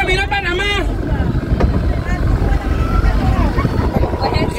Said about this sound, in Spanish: Un pasito de lancha está saliendo acá de la playa de Amuay